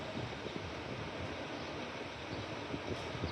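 A train on the Brisbane Gold Coast line rolls past in daylight, a steady broadband rumble and rush of wheels and air holding even and fairly loud throughout, with no voices.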